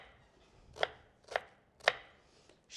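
Three sharp knife chops on onion against a cutting board, evenly spaced and close, with no talk.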